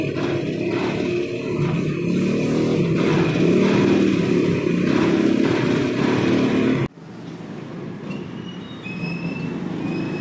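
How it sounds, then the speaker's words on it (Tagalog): Heavy highway traffic jam with motorcycles and cars, a loud continuous rumble and whine from passing vehicles that cuts off abruptly, leaving quieter, more distant traffic noise. "Medyo maingay dito eh, traffic jam."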